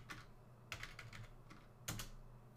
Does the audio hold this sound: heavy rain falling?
no